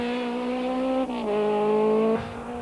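A 1993 rally car, a two-wheel-drive class entry crewed by Enzo Kuhn and Johan Sielung, revs hard on a mountain stage start, its engine note climbing through gear changes close by, loud and steady with no talk.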